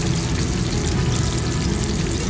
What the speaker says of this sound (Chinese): 用中大火慢慢炸， 不要一直翻动，让外皮先定型。